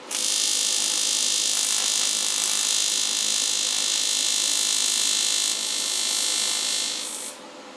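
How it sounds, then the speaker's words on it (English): Aluminum being welded with a filler rod gives a steady, close, bright buzzing hiss that holds evenly for about seven seconds, then drops abruptly near the end, with no one talking. "I welded aluminum for the first time."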